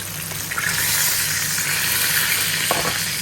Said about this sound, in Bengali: ভাজা শেষ, পেঁয়াজ দিয়ে দেবো।